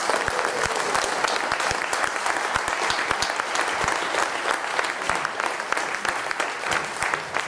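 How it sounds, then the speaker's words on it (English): An audience at a candidates' forum on housing in Santa Barbara applauds the candidates, with dense, sustained clapping that fills the room at a steady level throughout. "Ladies and gentlemen, a round of applause for our candidates."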